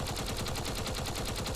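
Gatling guns in a video game pour fire into a ship, a dense rapid rattle of shots at an even, unbroken rhythm, loud and close with no speech.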